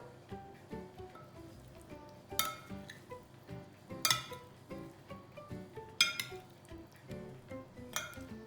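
A spoon clinks against a bowl while egg salad is stirred, giving a series of light, close metallic taps at an irregular rhythm, with several sharper, brighter strikes standing out over soft scraping.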